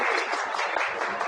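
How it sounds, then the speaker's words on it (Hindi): Thick crowd applause rolls on steadily and evenly, with many hands clapping at once, close and full, and no voices over it. "तो इनके लिए जोरदार तालियां।"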